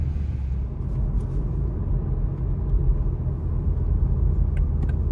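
A Toyota Supra 2.0 fitted with an aFe Power Takeda exhaust rolls in at Eurofed, its engine giving a steady, deep, close rumble that holds at an even level throughout, with no voices.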